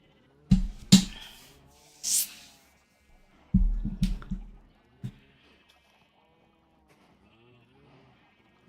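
Sheep in the game Minecraft bleat in short, nearby calls, several separate bleats spaced out with quiet gaps in between.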